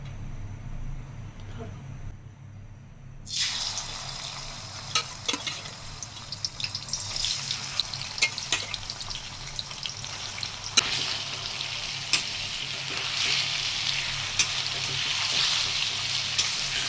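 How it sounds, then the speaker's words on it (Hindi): Pieces of jackfruit hit hot mustard oil after a quiet moment and set off a loud, steady sizzle with scattered crackles and pops. The frying continues to the end, and a person talks now and then. "गरम हो गया है तेल, और इसको इसमें हम डालेंगे, फ्राई करेंगे।"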